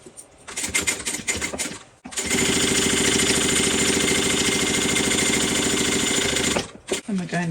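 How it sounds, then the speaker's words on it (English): Sewing machine running in one continuous burst of about four and a half seconds while stitching bag pieces right sides together, with a rapid steady needle clatter and short bits of handling noise before and after. "you're going to put these right sides together and sew that down"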